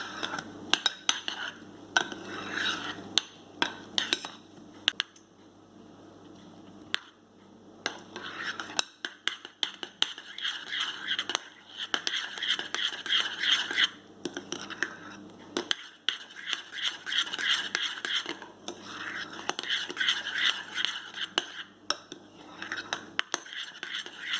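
A spoon stirs bits of jackfruit into a homemade ice cream mixture in a bowl, with repeated soft scraping and light clinking strokes and brief pauses, close by.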